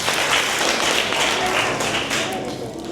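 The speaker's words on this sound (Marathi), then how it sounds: "टाळ्या वाजवा दोघांसाठी." Children in a village school classroom clap for two classmates, a dense, steady patter of many small hands that continues throughout with voices mixed in.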